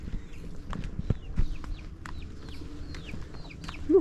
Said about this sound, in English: Look, little baby chicken.